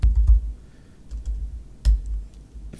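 Someone types on a computer keyboard in short bursts of clicky keystrokes with brief pauses between, close and clear, no talking.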